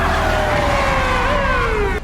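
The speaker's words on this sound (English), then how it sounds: "Outside, police surround the bank, weapons drawn and sirens wailing." A loud police siren wails continuously, its pitch sliding down and rising again, close and dominant throughout.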